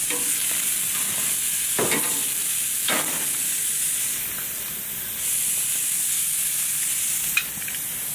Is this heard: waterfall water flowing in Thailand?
no